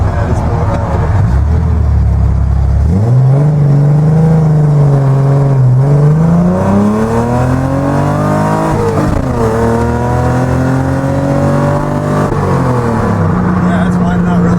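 A Datsun 240Z with triple Weber 40DCOE carburetors on individual throttle bodies revs up from idle, rising and falling in loud, close throttle blips that sweep higher and settle back.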